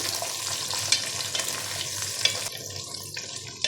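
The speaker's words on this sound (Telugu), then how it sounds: "ఇలా ఒక ఐదు నిమిషాలు ఫ్రై అవ్వాలి" Drumstick pieces sizzle steadily as they fry in a pan for sambar, a continuous close hiss with occasional stirring clinks, no talk.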